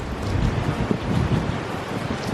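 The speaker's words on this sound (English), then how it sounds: "There's our creeks just rushing." A flooded creek in East Tennessee rushes in a steady broadband roar, with wind buffeting the microphone over the water noise and no talking.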